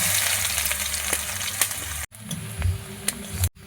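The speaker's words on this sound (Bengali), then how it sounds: "পেঁয়াজগুলো ভাজা ভাজা হয়ে গিয়েছে" Onions frying in hot oil with dried red chilli and bay leaf, a steady close sizzle broken by two brief gaps, with occasional soft stirring scrapes.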